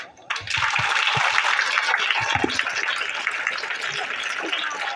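Students clap together at a Teacher's Day event in a classroom, a loud, sustained burst of applause that starts abruptly and carries on evenly, with no voices over it.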